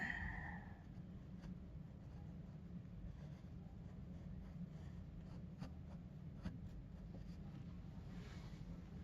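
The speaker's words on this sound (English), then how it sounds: "This is just a normal number 2 pencil" A number 2 pencil sketching in a sketchbook, soft continuous graphite scratching with occasional sharper strokes, close and quiet over a low background hum.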